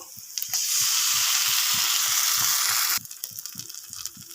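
Cumin and poppy seed paste sizzles loudly with onions in a hot pan, the fierce hiss holding for a couple of seconds before dropping to a softer bubbling fry with soft rhythmic stirring taps.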